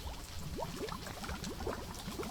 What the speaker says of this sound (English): All these bubbles on the surface.